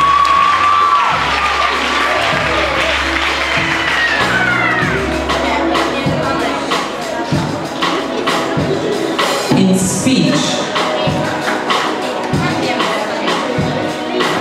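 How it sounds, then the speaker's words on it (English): Crowd at a high school graduation ceremony breaks into loud applause with cheering and shouts, a lively mix of clapping and excited voices that carries on steadily for well over ten seconds. "Could you give them a round of applause, please?"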